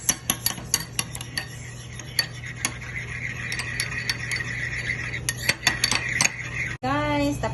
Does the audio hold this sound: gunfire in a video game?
no